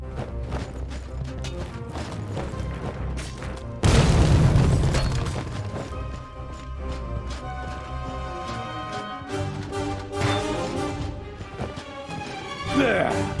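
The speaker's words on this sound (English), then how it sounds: "Grenades! Throw them into the holes, that ought to stop." Grenades explode in The Dwarves video game, one heavy booming blast standing out over a busy backdrop of game music and effects, with lighter crashes and pops following.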